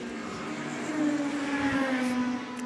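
A Ford Mondeo Super Tourer race car at Goodwood on its flying high-speed lap, its engine note rising and swelling as it passes nearby, then holding a loud, steady drone.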